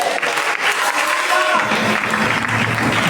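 A church congregation breaks into loud, dense applause that builds and holds steadily, with a few voices rising above the clapping.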